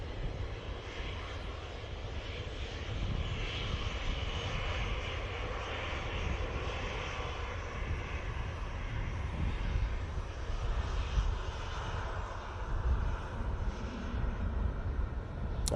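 A Ryanair jet airliner passes at Manchester Airport, its broad, steady engine roar holding throughout at moderate distance, with no voices over it.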